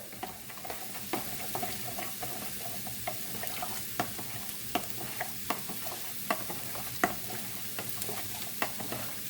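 Food in a pan is stirred with regular spoon taps and scrapes over a steady sizzle, a near, even rhythm of clinks throughout.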